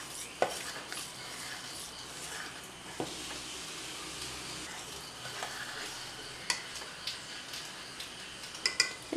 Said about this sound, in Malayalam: ഒരു ടേബിൾ സ്പൂൺ പഞ്ചസാരയും കൂടെ ചേർത്തിട്ട് നന്നായി മിക്സ് ചെയ്തിട്ട് ദോശ റെഡിയാക്കി എടുക്കാം